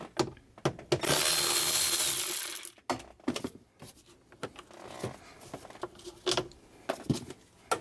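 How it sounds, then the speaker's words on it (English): Undoing three Torx bolts on a Mercedes Sprinter van's glove box, with close ratchet clicks and scattered metallic taps, plus a loud sustained hiss-like burst early on. "we're gonna undo these 3 torque bolts to remove the glove box"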